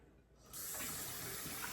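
Water from a kitchen tap gushes steadily to wet both hands, starting after a brief quiet moment and then running continuously and fairly loud, alone without talk.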